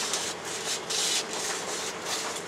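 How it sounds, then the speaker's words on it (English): Folded sandpaper worked by hand along the edge of a lathe, giving a close, steady rasping rub in short repeated strokes, about five or six passes with no talking. "I can take a piece of sandpaper, fold it up, and work it down in it."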